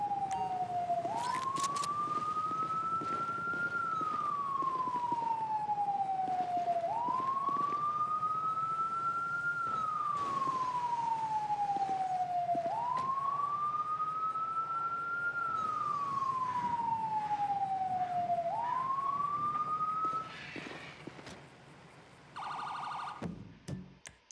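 A police-style emergency siren wails in the video game GTA 5, rising and falling in long repeated sweeps, loud and fairly near, cutting off abruptly near the end.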